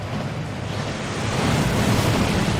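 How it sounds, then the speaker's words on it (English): Steady rushing roar of a waterfall in the Hogwarts Legacy video game, a broad continuous wash of water noise that swells slightly louder partway through, with no voices over it. "That waterfall washes away all enchantments."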